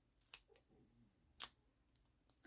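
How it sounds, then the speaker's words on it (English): Several sharp snips of scissors cutting through 1/16-inch-thick craft foam, with a few isolated crisp cuts spaced irregularly and close by, no talking. "I'm going to cut this foam down the middle"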